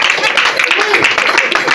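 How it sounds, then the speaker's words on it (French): Audience applause: a short, dense burst of many hands clapping, loud and close, lasting under two seconds. "ça s'applaudit."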